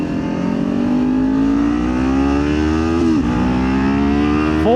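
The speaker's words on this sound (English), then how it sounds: "I'll shut up so you can listen to the bike and that fancy Leo Vinci exhaust" A Kawasaki Ninja 400 motorcycle fitted with a Leo Vince exhaust accelerates hard, its engine note climbing steadily through the revs, dipping briefly at a gear change, then rising again, loud and close.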